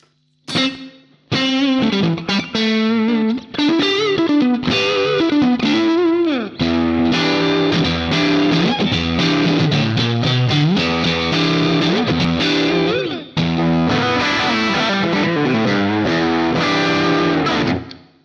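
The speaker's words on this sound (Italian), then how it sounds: "Diamoci un po' più di delay, di riverbero." An electric guitar runs through a Quad Cortex processor with added delay and reverb, playing continuous distorted phrases for about eighteen seconds. The notes sound loud and close, with echoing tails, a brief gap near the start, and no talking.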